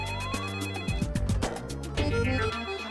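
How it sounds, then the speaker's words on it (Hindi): Telephone ringtone in a Hindi comedy series, a short electronic ring playing over a busy musical backing, steady and fairly loud. "दूसरा फोन बज रहा है"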